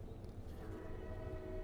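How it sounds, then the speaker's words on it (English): A train rolls by at a distance as a low, steady, faint rumble with a soft tonal hum layered over it, and no voices. "and then a train decides to go by"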